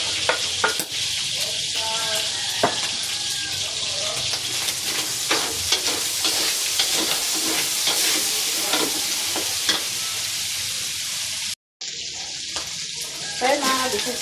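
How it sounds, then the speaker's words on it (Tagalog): Ginger, onion and garlic sautéing in a pan, a loud continuous sizzle broken by frequent scraping stirs and clinks, close up, with a brief dropout near the end and faint voices in the background. "Igisa na po tayo ng luya,"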